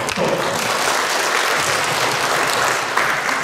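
A large audience at a vocational education directorate visit breaks into sustained applause, a dense, even wash of many hands clapping that fills the room and stays loud throughout.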